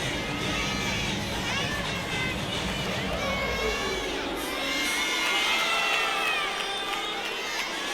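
Loud crowd cheering and shouting at a college gymnastics meet, with high children's screams and sustained arena noise throughout, swelling slightly toward the end.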